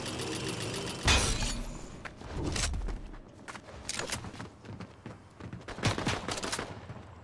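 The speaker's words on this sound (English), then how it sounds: "I'm going towards the gunfire instead of away" Gunfire in the video game Fortnite: dense bursts of rapid shots and cracking impacts, some near and loud, others trailing off, layered with game effects and footsteps in a busy firefight.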